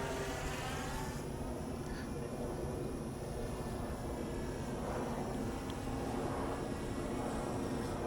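An Eclipson Model Y RC plane with an out-of-balance propeller drones steadily overhead, a continuous buzzing engine whine with a faint rattle that swells and fades slightly as it passes across the sky.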